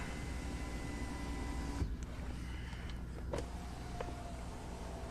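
Motorized moonroof of a 2016 Mercedes-Benz S600 Maybach opening, a steady low electric motor whir running continuously inside the cabin, with a faint click partway through and no talking.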